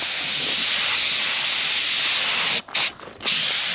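A spray gun lays a second coat of Komatsu paint onto the track guards of a 1939 Caterpillar D4, a steady loud hiss of atomized spray that cuts off briefly twice near the end before resuming.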